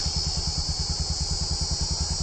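A motorcycle engine idles steadily close by, its low, even thumping pulse repeating throughout with a faint high whine above it and no voices.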